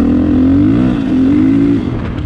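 A Husqvarna FE 501 2020 motorcycle engine revs close by, with a steady low growl that rises and falls in pitch and eases off near the end.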